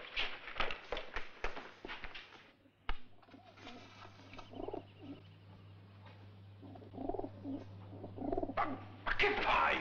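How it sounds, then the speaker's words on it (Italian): Pigeon cooing in short soft bursts amid speech, with a steady low hum underneath throughout and a louder rustling burst toward the end. "Sam, il piccione."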